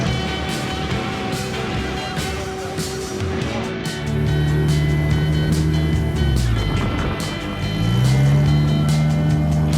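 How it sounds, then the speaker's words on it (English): A 2022 James Tracy portal rock crawler buggy runs a Honda K24A2 engine with a Turbo 350 transmission, idling with a steady rumble and then revving up twice in rising, throaty pulls close by. "This is a 2022 James Tracy portal buggy. It's running a Honda K24."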